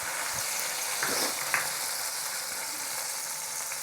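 Chopped shallots frying in oil in a kadai for a Chettinad chicken gravy, a steady, even sizzle and crackle at low-moderate level with a few faint stirring scrapes.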